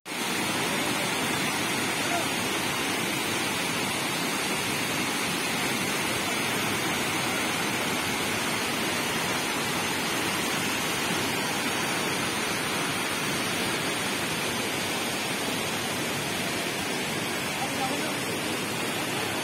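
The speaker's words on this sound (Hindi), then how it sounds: "बड़े बड़े पत्थरों के बीच पानी की सनसनाहट की आवाज" Steady, loud rush of falling water at Hundru Falls in Ranchi, Jharkhand, a dense unbroken roar as water pours among big boulders, continuous for the whole stretch.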